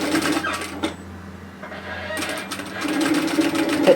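Sewing machine stitching over a small bias-cut fabric rouleau loop on a dress, bursts of close rapid mechanical chatter with a quieter pause in the middle, no talk.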